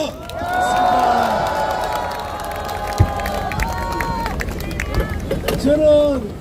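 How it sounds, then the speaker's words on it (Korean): A crowd at a street march in front of the National Assembly shouts and cheers, a sustained wash of many voices with scattered claps and one sharp knock, loud and close, with voices rising again near the end. "이 박수와 격려를 보내겠습니다."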